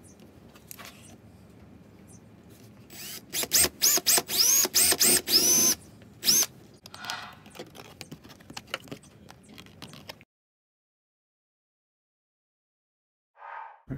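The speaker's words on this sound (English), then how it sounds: "now I'm going to drill it." A drill bores a hole in a mini lathe apron gear cover in short, loud bursts of whining with pauses between, then lighter scraping and handling before falling silent.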